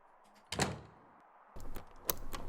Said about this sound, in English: We can still open this door.